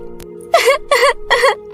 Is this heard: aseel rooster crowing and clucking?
no